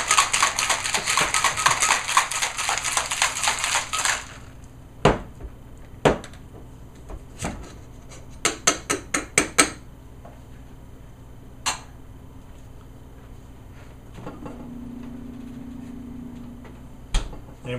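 A cocktail shaker packed with ice is shaken hard for about four seconds, a dense rattling churn, followed by scattered sharp clicks and taps of the shaker and ice settling, with a brief low hum near the end.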